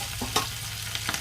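Green chillies frying in hot oil with cashews for Thiruvathirai pongal, a steady close sizzle with a few sharp crackles and spoon clicks.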